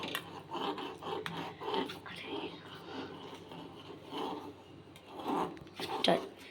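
A spoon stirring powdered Amul milk into caramel for homemade kulfi, soft rasping and scraping strokes against a pot in a steady, uneven rhythm, faint and close, with light clinks.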